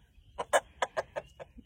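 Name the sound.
roosters clucking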